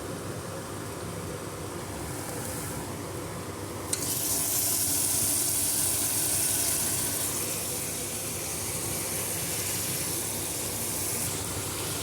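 Mutton (goat meat) pieces drop into a hot pan with a burst of loud, steady frying sizzle that holds close and constant, with some stirring texture.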